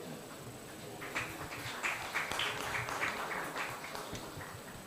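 Audience applause at a design conference, a steady wash of clapping building after the first second and sustained at moderate volume, heard from within the hall.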